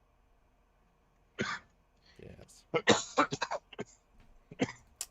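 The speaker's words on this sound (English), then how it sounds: "I still have a cough, guys, just so you know." Coughing and throat clearing from a person who still has a lingering cough, a few short harsh bursts close by, mixed with his own talking.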